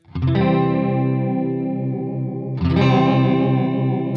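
An electric guitar through a Lekato Cube Baby pedal set to chorus and phaser rings out with two strummed chords, each left to sustain with a swirling, warbling modulation, loud and close, with no voices.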